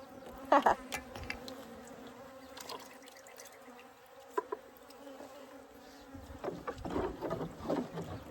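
Bees buzz faintly around, with a few louder drones passing close amid soft rustling and splashing movements nearby in water.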